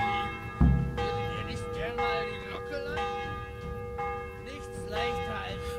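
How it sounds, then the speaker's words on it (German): A church bell tolls in a medieval village in Kingdom Come: Deliverance, a deep strike followed by long ringing overtones that hang steadily under soft ambient game sound. "Vor allem, weil läutet die Glocke jetzt."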